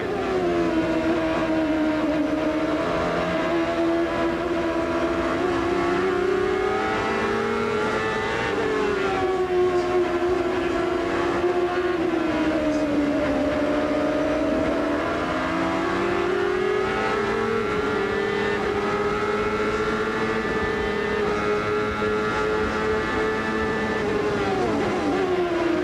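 CART race cars at the 1995 Cleveland round, several engines droning and revving together in a continuous loud, wavering roar as they race in close contact.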